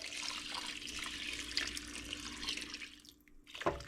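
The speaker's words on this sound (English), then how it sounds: "I'm just going to add some water. Doesn't matter, just enough to cover it." Water running from a tap into a cooking pot to cover the ingredients for a family dinner, a continuous close splashing stream that dips briefly near the end before a final clatter.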